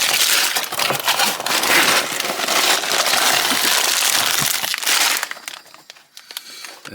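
Plastic bags are pulled from a crushed box, their crinkling and rustling loud, close and continuous, fading to scattered faint crackles at the end.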